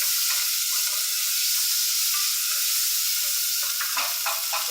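Onions fry in coconut oil with a steady, close, hissing sizzle while occasional stirring scrapes and clicks break through toward the end.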